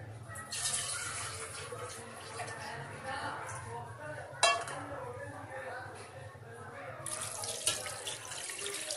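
Water runs and splashes into a cooking pot of desi chicken yakhni at close range, with metal clinks and kitchen clatter, while a person talks over it.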